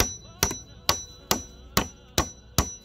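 Hammer blows driving nails into a timber frame for a finch aviary: six sharp, evenly spaced strikes about half a second apart, loud and close, with no talk.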